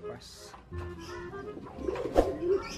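Domestic pigeon cooing close by, a few soft throaty coos under a person talking and light handling noises.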